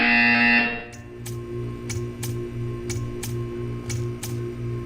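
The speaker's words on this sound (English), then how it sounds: "You will hear a buzzer." A buzzer in the Portal 2 video game sounds in a series of regular short electronic pulses, roughly eight evenly spaced buzzes over a steady low hum, following a brief louder tone at the start.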